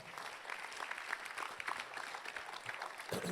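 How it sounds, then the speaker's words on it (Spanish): A church congregation applauds during a Spanish-language sermon, a steady dense wash of many hands clapping at a fairly distant, quiet level, continuing without pause. "Si damos ese aplauso."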